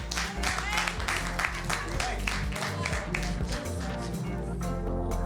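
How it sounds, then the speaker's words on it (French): An audience applauds at a live stage show, with continuous crowd clapping under a constant low background hum and faint voices. "On peut l'applaudir, s'il vous plaît."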